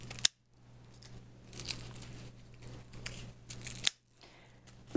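Scissors trim dried onion stems and leftover roots, several crisp snipping and crunching cuts spaced through a few seconds, close and fairly quiet, with brief silent pauses between bursts.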